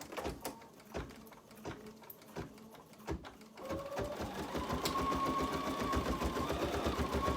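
An embroidery machine stitches out a design: a few separate clacks, then a fast, even, continuous mechanical stitching rhythm, close and moderately loud.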